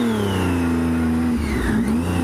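A car engine revs loudly nearby as vehicles speed past through a red light, the pitch climbing and shifting steadily.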